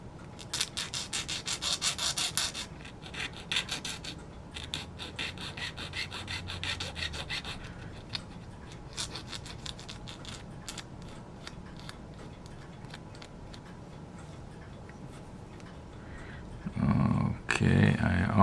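Close, steady rubbing strokes of sandpaper on a small wooden model ship piece, a continuous gritty scrape with a few louder handling bumps near the end.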